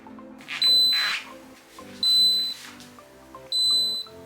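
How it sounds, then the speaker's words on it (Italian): Kyvol AF600 air fryer sounding its end-of-cooking alarm: three loud, clear electronic beeps at even intervals, each about half a second long, over faint background sound. "questa friggitrice vi avviserà con un allarme acustico quando sarà finito il ciclo di cottura"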